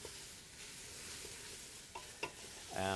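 Onions stirred in a hot pan with a wooden spoon for French onion soup, a steady soft sizzle with scraping strokes, a few sharper clicks near the end and a brighter burst of frying noise.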